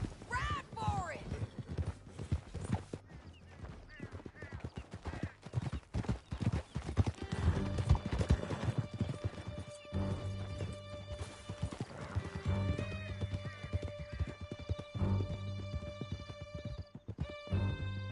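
Horses galloping during an escape through a canyon in Red Dead Redemption 2, a fast drumming of hooves and a whinny beneath loud shouting voices and a rising score.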